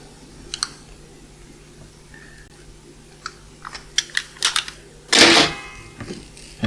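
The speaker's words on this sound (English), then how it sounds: "Try to cut open this insulation a bit." Insulation on a shielded wire being cut open in a lab, heard as sparse close clicks and snips followed by one louder burst of scraping and cutting near the end, with no talking.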